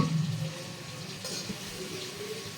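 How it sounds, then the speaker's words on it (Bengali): Pot of rice bubbling on a gas stove for khichuri, a steady soft watery simmer with a low hum, heard alone at moderate distance in a busy shop kitchen. "ভাত ফুটছে, খিচুড়ি হবে।"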